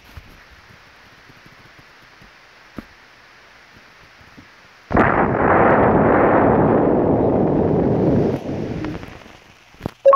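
Missiles slam into the planet in an Earth-destruction game: after a quiet hum, a sudden loud impact bursts into a long roaring, crackling rumble that fades away, followed by a sharp final hit.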